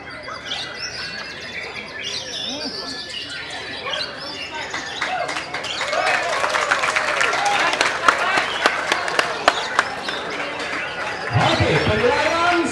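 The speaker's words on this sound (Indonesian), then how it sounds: "Tepuk tangan yang luar biasa di kelas utak." Crowd applause at a horse show's main-class competition, a steady spread of clapping that swells louder toward the end, with bird chirps and talk over a PA mixed in.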